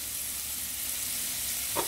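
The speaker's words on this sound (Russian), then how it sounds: "Грибы жарю на семерке, чуть выше среднего." Mushrooms fry in oil in a pan over a burner set just above medium, giving a soft, steady sizzle with a brief stir or scrape near the end and no talking.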